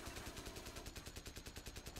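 Rapid automatic gunfire in Call of Duty: Modern Warfare, a steady rattling burst of evenly spaced shots repeating throughout, dense and continuous but fairly quiet overall.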